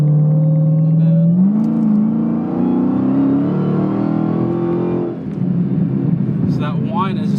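A 900 whp Dodge Hellcat accelerates, its engine whine rising in pitch under a deep rumble, then easing off before climbing again, with people talking over it inside the car.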